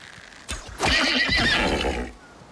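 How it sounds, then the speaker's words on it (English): A horse in the survival video game Icarus lets out a loud, close whinny lasting over a second, preceded by a brief snort and fading into quiet breathy noise, with no talk over it. "That's a horse."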